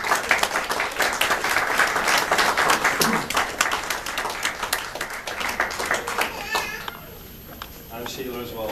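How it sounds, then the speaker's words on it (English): Wedding guests applaud the bridesmaids during the groom's speech, a dense burst of clapping that fills the room and fades out after several seconds. "Have an applause for the bridesmaids"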